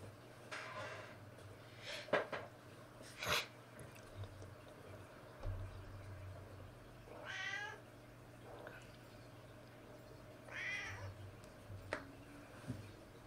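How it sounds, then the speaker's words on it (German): A kitten meows several times in short, separate calls spread across the scene, fairly close and moderately loud against a quiet background with a low hum, no talking. "Ja, Kätzchen, was ist los?"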